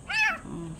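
A single close kitten meow, rising then falling in pitch, followed by a softer, lower trailing mew, heard alone with no talking.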